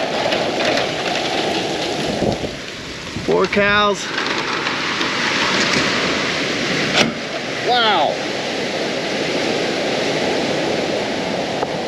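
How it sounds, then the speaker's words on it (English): Heavy rain pours down in a steady, loud broadband hiss, with a voice briefly speaking over it and a short animal-like call in the background. "It's raining hard."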